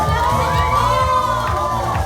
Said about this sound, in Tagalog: Milyong-milyong palakpak para kay Mentor Tanya Morales!